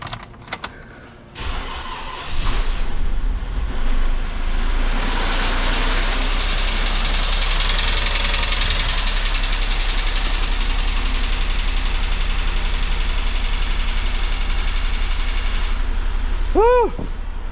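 A Jeep 3.6 engine, just fitted with a new oil filter housing, cranks and starts, then settles into a loud steady run close by, with a brief whine near the end.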